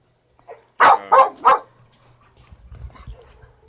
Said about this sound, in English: He has a loud bark, or a deep bark